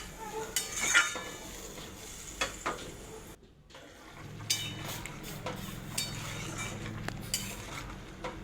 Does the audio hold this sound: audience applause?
no